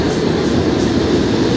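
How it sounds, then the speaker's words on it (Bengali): A Down Diamond Harbour local train at Jadavpur station gives a steady, loud low rumble of rolling wagons close by, with no talk over it. "Down diamond Harbour local."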